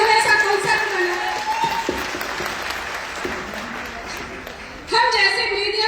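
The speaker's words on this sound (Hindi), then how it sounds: "सबसे एक बार जोरदार तालियां" Loud audience applause fills the hall at a Modicare success-story gathering, sustained steady clapping for about five seconds with a voice speaking over it, then fading as talk resumes.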